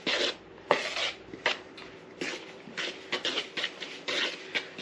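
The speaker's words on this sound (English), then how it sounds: "Because of the curve on the spoon, it's doing a lot of the work for you by separating the butter as it's going." A spoon scraping and rubbing butter into flour for a pear crumble topping, a close, dry gritty rasping in short irregular strokes with occasional sharper scrapes, no voices.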